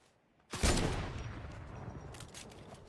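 A single heavy sniper rifle shot in a video game bursts out after a brief quiet moment, loud and close, followed by a long rumbling echo that slowly fades with faint scattered clicks.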